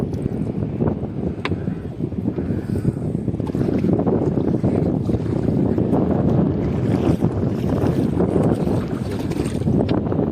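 A fishing boat rumbles on open water off Mahim Koliwada, Mumbai, with a steady low engine drone, wind buffeting the microphone and water sloshing around the hull.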